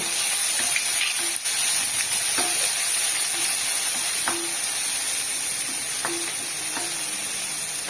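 Chopped ginger being stirred into a coriander mixture frying in a pan, with a loud, steady sizzle and hiss the whole way through and occasional scrapes and clicks of a spoon against the pan.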